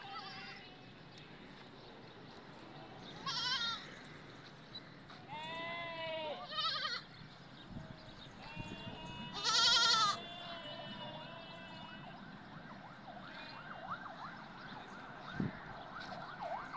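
Goats and kids bleat at a bustling goat market under a bridge in Karimabad, with several loud, wavering calls from different animals spread through the clip over steady crowd murmur and a voice.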